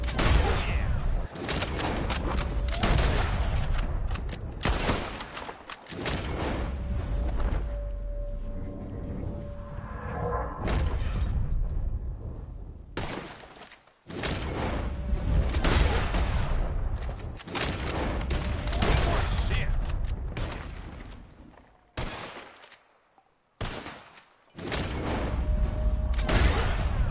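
Gang shootout in the Red Dead Redemption 2 video game, loud bursts of close gunfire and booms in several volleys separated by brief quiet gaps.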